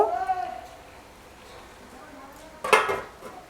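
A pot lid clanks into place over stuffed potatoes cooking in a pan, one bright metallic clatter after someone speaks in Bengali, then a softer settling knock.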